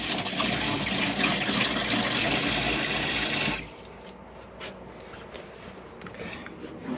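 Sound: water running from a motorhome tap

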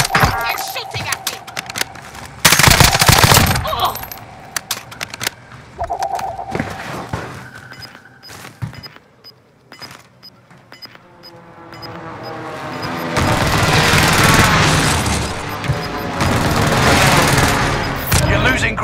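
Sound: gunfire in the video game Call of Duty Warzone

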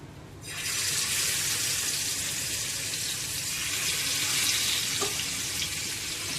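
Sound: jitada fish frying in oil on a pan

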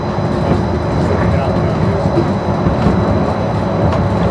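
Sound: Disneyland monorail running

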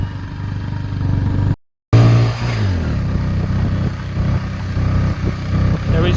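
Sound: motorcycle climbing steep road in first gear

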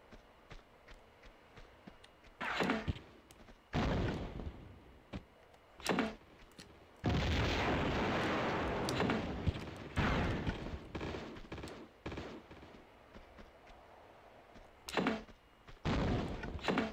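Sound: grenade launcher firing in Tomb Raider II, a video game

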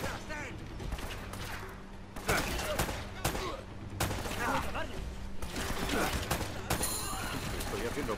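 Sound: gunfire in video game Uncharted: Drake's Fortune

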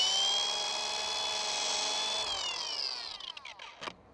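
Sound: rotary car polisher spinning

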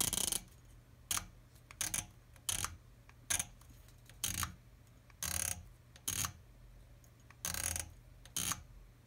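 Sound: Athlon Ares ETR scope turret clicking to zero stop

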